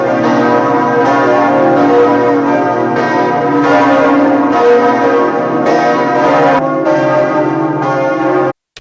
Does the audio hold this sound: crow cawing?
no